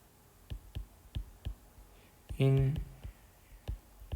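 Chalk or marker writing on a board during a Korean-language ethics lecture on Enlightenment philosophy, heard as a steady series of light, close taps and strokes, broken briefly by a short voice.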